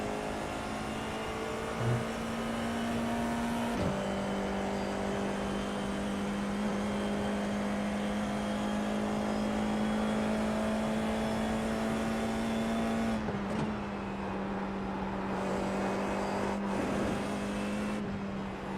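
A formula race car engine in the iRacing sim game holds a steady high drone, with brief pitch dips from shifts near the middle and end, even and continuous with no talking.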